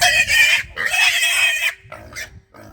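Piglets grunt and squeal in loud, close bursts, several overlapping, with short pauses between them.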